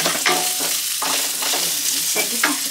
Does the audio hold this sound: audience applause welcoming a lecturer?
no